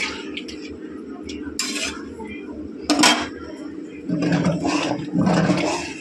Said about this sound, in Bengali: আতপ চাল বারে বারে নাড়তে হবে